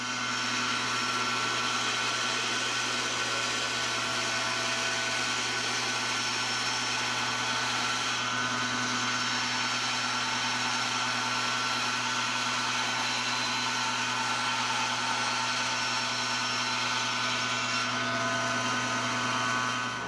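A bandsaw runs steadily while making angled oval cuts through a wooden shelf, giving a continuous, even motor whine and hum with no breaks for about twenty seconds.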